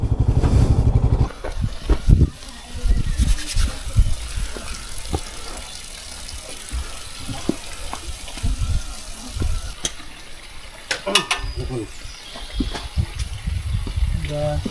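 Motorcycle with a clutch plate problem straining on a steep climb toward Jalori Pass, a rough close engine drone with mechanical rattles under scattered talk.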